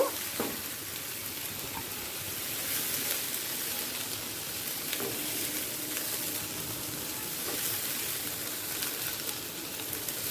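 Potatoes and soybean chunks frying in oil, a steady broadband sizzle with faint crackles and pops throughout, no voices.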